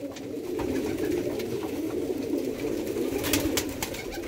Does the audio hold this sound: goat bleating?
no